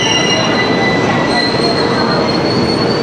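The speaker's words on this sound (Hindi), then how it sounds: "आ गई अपनी नारा वाली मेट्रो।" Nara metro train pulling into a station in Japan, a steady loud rumble with high wheel squeal and faint clickety-clack running continuously throughout.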